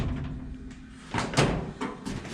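A car door latch clicks open on a Henry J project car during latch fitting, a couple of close metallic clunks and a rattle in a quiet workshop.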